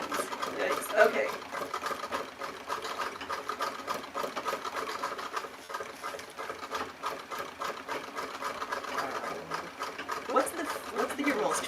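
A sewing machine stitching steadily, its rapid mechanical needle rhythm running throughout at moderate level, with a person talking quietly over it.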